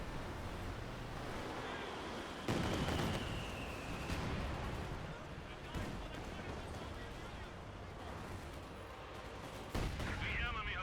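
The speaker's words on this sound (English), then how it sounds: "Here's your barrage coming on in" Artillery barrage in Company of Heroes 2, the World War II strategy game: a steady roar of rumbling blasts with several sharp impacts landing about every few seconds, under continuous commentary talk.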